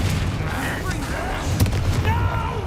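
A Confringo spell blast in the video game Hogwarts Legacy, a booming fiery burst with a sharp crack partway through over a steady rumbling battle bed, with voices heard amid it.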